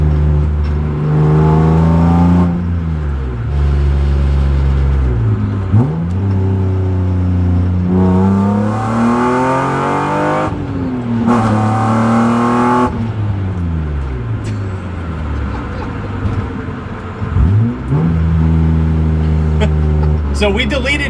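A BMW E36 M3 engine revs repeatedly, each blip sweeping its pitch up and settling back to idle, loud and close, with several distinct rises over about twenty seconds.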